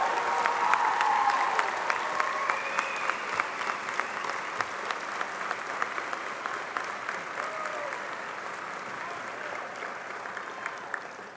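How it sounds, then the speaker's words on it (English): A large audience applauds at the CSU Global 2015 commencement ceremony, sustained even clapping spread across a big hall, moderately distant and continuing steadily for about eleven seconds before thinning slightly toward the end. "if you would turn and thank with your applause your friends, family members, and CSU Global stakeholders"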